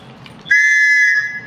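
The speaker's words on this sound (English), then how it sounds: "So what came with that knife, Topps Knives, is this really cool whistle." A keychain whistle that came with a Topps Knives knife gives one short, shrill blast of about a second, close and loud, after a brief lull of room noise.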